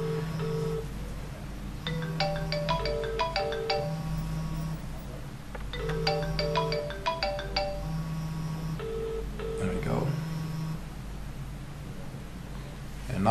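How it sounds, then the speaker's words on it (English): A mobile phone on the Telstra network rings for an incoming call, its melodic electronic ringtone repeating in two clear bursts with a short gap between them over quiet room noise. "As Panda is calling me, the phone will ring for 20 seconds."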